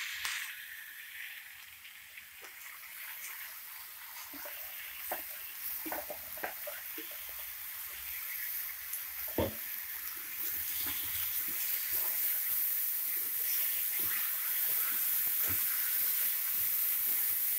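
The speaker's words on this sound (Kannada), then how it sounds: "ಇದು 1 ನಿಮಿಷ ಫ್ರೈ ಮಾಡ್ಕೊಳ್ಳಿ." Ground masala fries in a pan for a mixed sprouts sambar, a steady hiss and sizzle with scattered soft stirring taps that grow louder toward the end.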